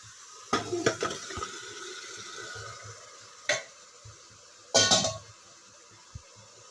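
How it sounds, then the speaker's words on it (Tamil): Chicken pieces going into a hot pot and being sautéed: a few loud bursts of sizzling with clinks and scrapes of a spoon against metal, separated by quieter stretches of low frying. "சிக்கனை காய்ஸ் இப்போ நல்லா வதக்கிக்கணும்."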